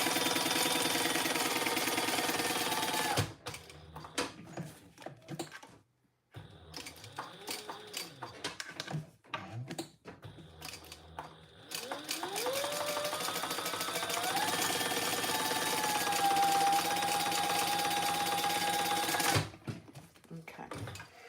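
A sewing machine stitches a 1/4 inch seam on a bag, its steady mechanical whir running in bursts broken by short pauses, with stops and a rising motor tone partway through; a voice talks over parts of it.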